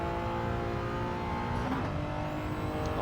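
A Honda S660 kei car races around the Willow Springs street circuit in Gran Turismo 7, its engine droning loud and steady at high revs without pause.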